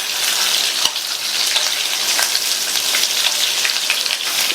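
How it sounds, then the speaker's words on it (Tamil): Ivy gourd sautés in oil over a high flame, a loud crackling hiss like heavy rain, steady throughout with a few sharp pops and stirring knocks, no speech. "இந்த கோவக்காயை எண்ணெயிலேயே ஹை ஃப்ளேம்ல வச்சு 1 நிமிஷத்துக்கு வதக்கி விட்டுக்கலாம்."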